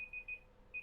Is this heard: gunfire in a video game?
no